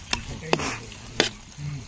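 Spoon stirring a paneer-style egg curry in a pan, with a few sharp scraping clacks against the metal and a soft sizzle underneath.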